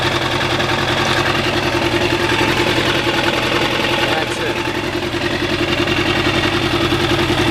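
A 1991 Yamaha FZR 1000 motorcycle with a newly replaced exhaust idles steadily and fairly loud, a continuous low engine rumble with an even pulse throughout and a voice speaking over it.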